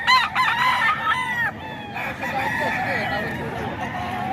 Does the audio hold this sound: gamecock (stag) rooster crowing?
yes